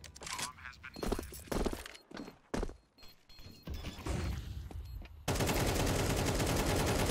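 Counter-Strike 2 gunfire rattles in rapid bursts and single cracks, loud and close, giving way to a sustained dense roar of fire near the end.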